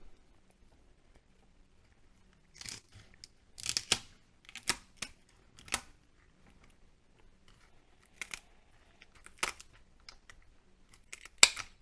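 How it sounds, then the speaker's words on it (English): Shears snip through a lobster body to halve it, a series of crisp separate crunching cuts and clicks at close range in a quiet kitchen, spaced irregularly with pauses between, no speech. "now we're gonna cut the body in half right here."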